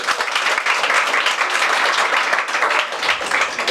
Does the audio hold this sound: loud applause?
yes